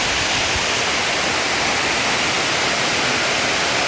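Floodwater rushes down a channel toward a river drainage, a dense, steady hiss of flowing water with no pauses, loud and close throughout.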